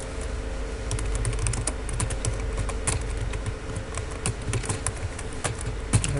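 Steady clicking of keys on a computer keyboard, typed close and quickly in short irregular bursts, alone with no talk.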